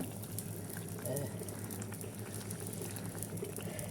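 Leafy narish greens boil in a cooking pot, giving a steady, dense bubbling and rolling liquid churn throughout, with a faint background voice.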